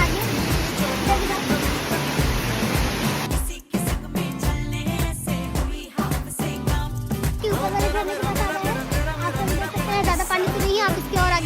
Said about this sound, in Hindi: देखते हैं वाटरफॉल कितना अच्छा है यहाँ पर